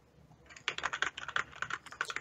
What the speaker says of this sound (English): You're just making like a clicky sound when I click it in my earbuds.